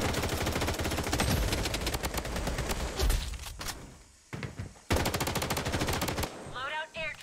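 Rapid machine gun fire in the shooter game Blood Strike rattles in long, dense bursts, briefly breaking off and then resuming loudly, with a short electronic game chirp near the end.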